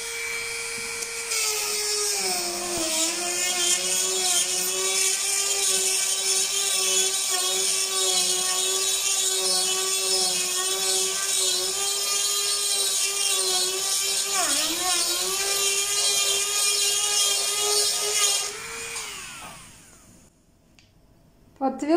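A power drill bores a hole into thick but soft stone, held and twisted slightly as it grinds; a loud, steady high whine runs for about eighteen seconds, wavers briefly, then winds down and stops.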